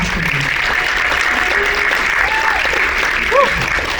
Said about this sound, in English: Let's give a round of applause for him.